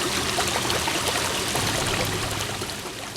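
Small restored waterfall in the Ozarks pouring steadily, a continuous broadband rush of falling water, close and even with no voices.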